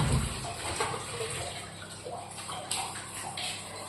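Water splashes into a pressure cooker holding chicken curry with onions and spices, a brief close pour and trickle at moderate level, no talking.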